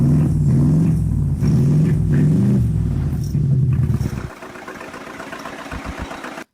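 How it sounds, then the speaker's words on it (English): Mercedes G-Class engine with no exhaust silencers cranking and catching, a loud uneven rumbling churn that drops abruptly partway through to a quieter, rougher idle with sporadic low thumps. "There are no exhaust boxes here, so the sound will be a bit strange."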